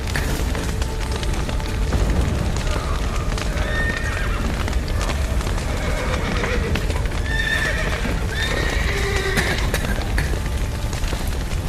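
In The Witcher 3 game, a horse whinnies repeatedly over the clatter of its hooves, set against a loud, constant roar of background noise like fire and a collapsing roof, with faint voices in the mix.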